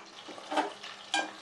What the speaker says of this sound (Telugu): తాలింపు సరుకులు అన్నీ వేగిన తర్వాత